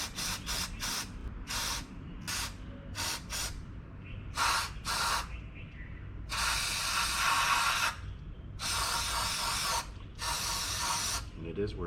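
Cleaner sprays in bursts into a gunked-up car throttle body: a string of short hissing spritzes followed by several longer, louder sprays, close up and alone.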